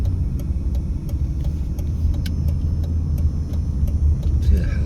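A car rolls northbound along Christie Lane in Las Vegas after a green light, a steady low engine and road rumble close by with faint ticking over it, no speech.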